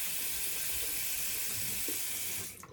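Tap water runs steadily into a bathroom sink basin as it is rinsed out during a wet shave, a continuous close splashing rush that cuts off near the end.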